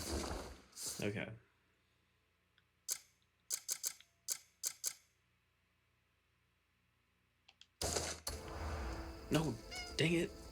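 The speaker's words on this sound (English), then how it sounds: "Is this that cat? Is that cat back?" A cat meows amid sharp clicks in an otherwise quiet stretch, with someone talking at the start and end.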